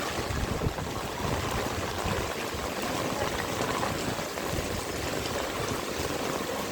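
Typhoon floodwater, knee-deep in Mabuhay City during Typhoon Kristine, rushes and churns steadily nearby, a constant broad wash of flowing water with no talking.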